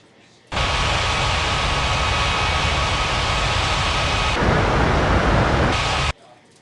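An airplane taxis toward the runway in the Unmatched Air Traffic Control video game: a steady, loud jet-engine roar with a hiss starts abruptly, holds for about six seconds, then cuts off sharply.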